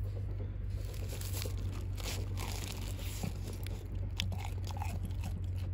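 Close, crisp crunching bites and chewing of fried curry bread warmed in a hot sandwich maker at a camp breakfast, continuing steadily with no talk.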